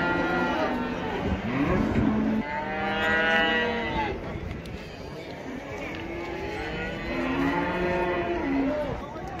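Cattle at a livestock market in Taraz moo loudly and close by in long, drawn-out calls that overlap across the whole stretch, amid general market commotion.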